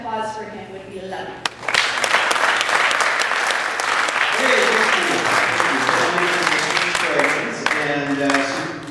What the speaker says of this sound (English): applause for him would be lovely